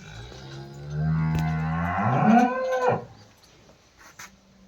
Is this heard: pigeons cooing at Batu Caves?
no